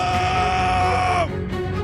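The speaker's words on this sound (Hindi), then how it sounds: "जेसन ने अंकल को घूंसे पे घूंसे मारने लगा। अंकल की चीख निकल गई।" A cartoon man screams while being punched over and over, a loud, sustained strained cry that breaks off abruptly, followed by short groaning noises.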